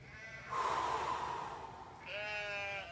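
Goats bleat at night while a person spends the night among them, one long wavering bleat followed by a second, higher call, both close and fairly quiet, with no talking.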